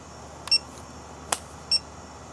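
A digital torque wrench gives three short electronic beeps as its unit button is pressed, close and clear with a click between them, in a quiet workshop setting.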